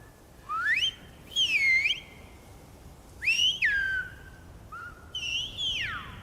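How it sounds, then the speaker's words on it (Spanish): Silbo, the whistled language of El Hierro, heard as a series of sharp rising and falling whistled phrases in four bursts with short pauses between, clear and fairly close against a quiet background. "Hace siglos, los habitantes desarrollaron por medio de silbidos un lenguaje propio"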